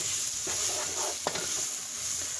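Spices and ingredients for chili mac sizzle steadily in a hot pan with a little water, a close, continuous frying hiss punctuated by soft stirring scrapes and one sharper clink of a utensil.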